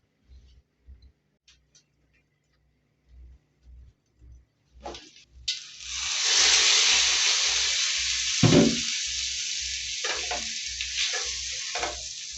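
Masala pork with spices frying on low heat, starting with sparse clicks and taps, then a steady loud sizzle that swells and holds, broken by a few stirring scrapes and bursts.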